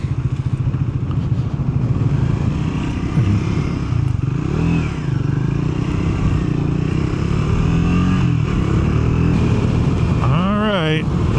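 Triumph Scrambler 400 X motorcycle on a dirt road with its check engine light on, a loud steady engine drone with wind buffeting and a few rising revs, including a sharp rev at the end.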